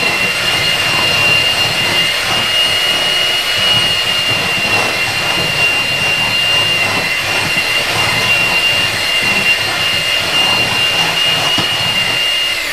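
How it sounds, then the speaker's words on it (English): An electric mixer creams vegan strawberry shortcake batter with a loud, continuous high whine and grinding hum, steady and close throughout, with no voices. "so you want to cream it together until it's like really creamy and fluffy"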